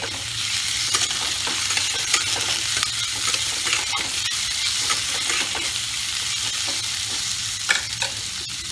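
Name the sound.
chopped tomato frying in pumpkin curry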